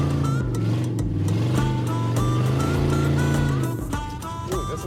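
A 1995 Chevy Caprice 9C1 drives along with a loud, steady engine drone and shifting harmonic whine from up close, rising and falling slightly as it goes.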